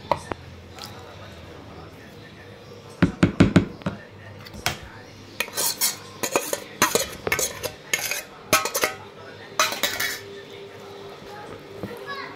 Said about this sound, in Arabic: حطينا معلقه بيكنج باودر برضو، وهنقلب